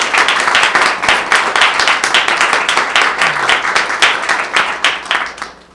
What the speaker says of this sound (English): Let's give Governor a nice round of applause